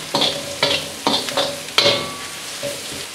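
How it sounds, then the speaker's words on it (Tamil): Carrot, beans and cabbage being stir-fried in a pan, with four or five distinct scraping stirs, each bringing a sharp sizzling burst, close and fairly loud with brief pauses between. "இப்போ 30 செகண்ட் கேரட் பீன்ஸ் வதக்கிட்டு நம்ம கேபேஜ் ஆட் பண்ணிக்கலாம்"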